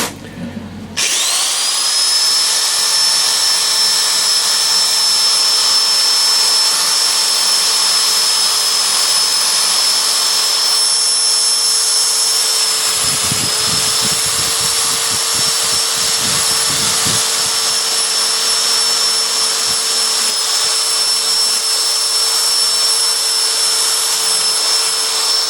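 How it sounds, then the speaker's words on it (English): A loud, very noisy old electric drill whirs steadily at full speed during MGA 1600 rear leaf spring restoration, a constant high-pitched motor whine with a brief dip in pitch partway through, running alone without talk. "I'm using my grandfather's old drill, which is very, very noisy actually"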